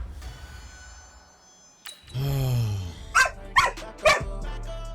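A dog barks three or four sharp times near the microphone, preceded by a low drawn-out growl or whine, with a faint steady hum underneath.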